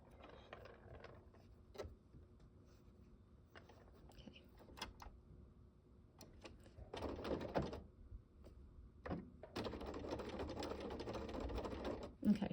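A sewing machine stitches a blanket stitch around a circular appliqué, running in short mechanical bursts that grow longer and steadier toward the end, with quieter handling sounds between runs.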